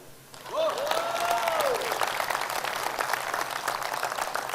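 A room of attendees at a team business seminar breaks into sustained applause after a brief quiet start, steady mid-level clapping continuing to the end, with a faint tonal sweep passing early on.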